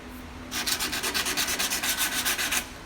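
Rhythmic back-and-forth sanding strokes with a sanding block on car body filler, a steady series of about a dozen close, raspy rubs against a hard surface, then stopping.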